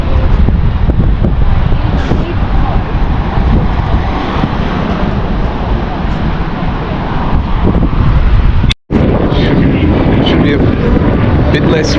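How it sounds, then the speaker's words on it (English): Strong outdoor wind buffets the microphone on a coastal walk at Surfers Paradise, a continuous loud rumbling roar that cuts out for a moment near the end before resuming, with faint voices underneath. "It's a bit windy"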